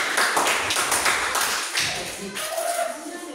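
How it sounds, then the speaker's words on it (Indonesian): Children in an Indonesian computer classroom clap their hands together in a dense burst of applause that fades out over a few seconds, fairly loud and close. "Oke, tepuk tangan."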